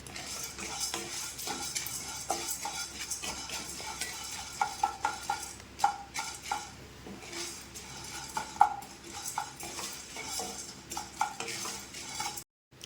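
Lentils for dal dry-roasting in a pan rustle and rattle under continuous stirring, with frequent scraping and light clinks of a spoon against the metal, close and steady throughout.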